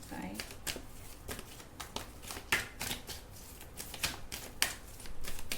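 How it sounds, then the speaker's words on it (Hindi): Tarot cards are shuffled and drawn by hand, giving a rapid, close riffling and flicking with irregular sharp snaps, steady and crisp throughout. "ओके, चलो अब कार्ड निकालती हूँ।"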